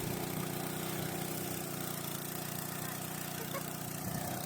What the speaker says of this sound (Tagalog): Dahil napagana na natin ng isang water pump